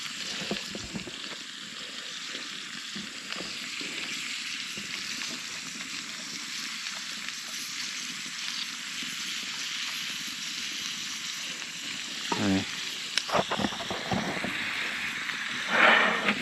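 Carrots and peas frying in an uncovered pan for a carrot stew, a steady broad hiss of sizzling that runs evenly, with a few louder clatters and stirring knocks near the end.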